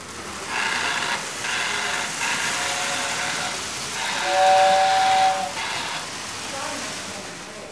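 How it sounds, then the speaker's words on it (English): A toy steam locomotive's hissing whistle sounds in several short blasts, then one longer, louder tone, over a constant mechanical hiss nearby. "This one's even got a whistle."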